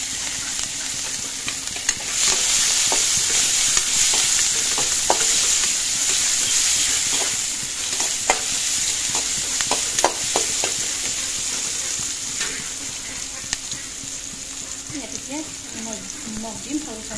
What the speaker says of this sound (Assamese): সেই তেলতে পিঁয়াজখিনি দি দিছোঁ।